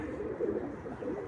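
Tumbler pigeons coo softly in a low, steady murmur of overlapping throaty calls, close and continuous with no voices.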